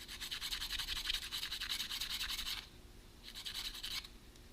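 A motorcycle starter part from a ZX10 is scuffed by hand with a rapid rasping scratch. The rubbing runs steadily for a few seconds, pauses, then starts again briefly. It is close and fairly quiet.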